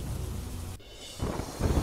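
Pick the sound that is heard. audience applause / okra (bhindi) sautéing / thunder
thunder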